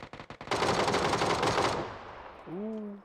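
An AKM rifle in the video game PUBG fires a few single shots, then a dense loud automatic burst that rings out and decays, followed by a short rising game tone.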